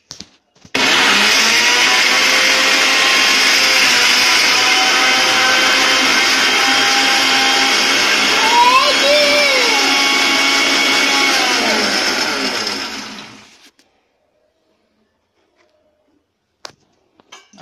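A blender grinding watermelon for juice, a loud, steady, high-pitched whirring motor running for about thirteen seconds, dipping briefly in pitch midway, then winding down and cutting off into silence.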